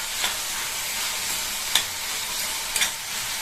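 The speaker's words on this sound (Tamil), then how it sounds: "இது கூட குழம்புக்கு தேவையான அளவு உப்பையும் சேர்த்து வதக்கிட்டோம்னா தக்காளி வந்து நல்லா வதங்கிரும்." Onions and tomatoes, salted, sauté in a pan for kuzhambu, giving a steady close sizzle throughout with a few sharp stirring clicks of the spoon against the pan, and no voices.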